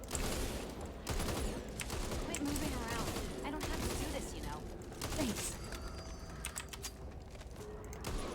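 Rapid bursts of video game gunfire crackle in uneven volleys under busy game audio, with a player's voice talking over the action.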